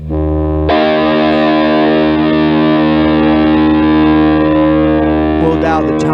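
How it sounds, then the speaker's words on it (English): An electric guitar runs through a JHS pedal with the distortion wide open, giving a loud, sustained fuzz tone that rings out almost unbroken from one struck chord to the end. "we'll crank the distortion wide open. You get some pretty good little fuzz tones out of it"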